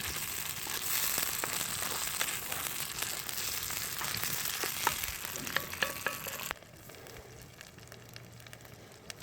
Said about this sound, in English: Now we've sauteed our onions just to the translucent state. We've dumped in our chorizo.